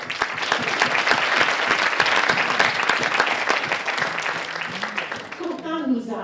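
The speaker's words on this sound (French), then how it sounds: "On peut l'applaudir." Audience at a film screening event applauding the screening's programmer, dense steady clapping that gradually thins out near the end as a voice resumes speaking.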